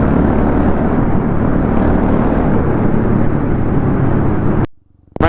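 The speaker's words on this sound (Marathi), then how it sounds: "आवाज ऐका तुम्ही, आवाज ऐका GT650चा आवाज" Royal Enfield GT650 motorcycle engine roaring loudly and steadily on an open road ride toward Lonavala, a dense continuous drone that cuts off abruptly near the end before briefly resuming.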